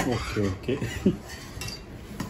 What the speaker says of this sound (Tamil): ஆனால் நம்ம கை விடாம இந்த மாதிரி கிளறிட்டே இருக்கணும்